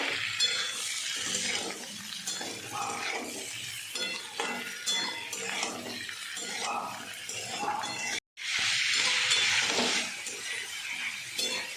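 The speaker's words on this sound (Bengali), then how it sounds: "এবার পেঁয়াজটা আর লঙ্কাটা দিয়ে দেবো, দিয়ে এটা একটু হালকা হাতে ভেজে নেব।" Onion and chili stir-fry gently in a pan with a continuous sizzle and scattered clinks and scrapes of a spoon against metal, broken once by a brief silence before the frying resumes louder.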